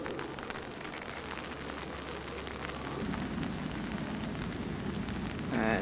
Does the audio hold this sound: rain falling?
yes